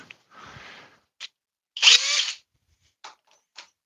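A DeWalt power drill whines in short bursts, with one loud sustained run in the middle as it bores into wood, then brief spurts trailing off.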